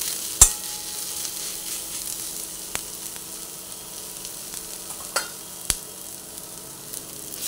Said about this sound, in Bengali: ভাতটা দিয়ে দেওয়ার পরে অল্প করে ভাতটা ভেজে নিচ্ছি।